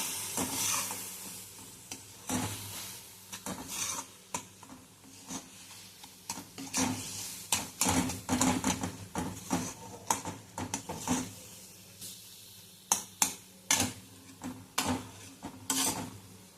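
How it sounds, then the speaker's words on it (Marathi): Spinach and lentil dal with a spoonful of crushed roasted peanut powder being stirred in a pan, giving repeated scraping and stirring strokes over a soft sizzle, close and fairly quiet, with no talking. "1 चमचा दाण्याचा कूट घालते आणि भाजी छान एकजीव करून घेऊयात।"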